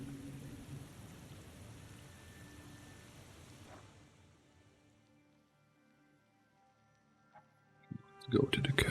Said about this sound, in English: It started to rain.